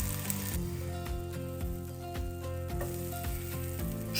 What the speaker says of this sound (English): Heated pan with the butter or oil. Fry until the skin golden brown.